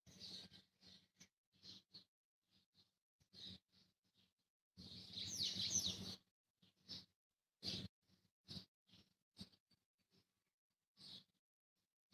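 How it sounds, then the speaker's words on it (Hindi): Birds chirp outdoors during a guided yoga and relaxation session. The calls are short, scattered and fairly faint, with quiet gaps between them and a brief louder rustling burst partway through. "चिड़ियों की चहचहाट सुनिए"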